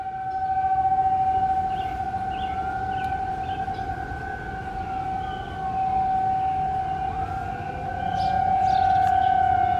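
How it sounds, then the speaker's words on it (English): A steady, sustained wail of outdoor tornado warning sirens in Independence, Missouri, during a severe thunderstorm, holding a long droning tone that rises and falls slightly, with a second siren faintly overlapping. "now the tornado sirens are going off as there's a tornado warning in my area"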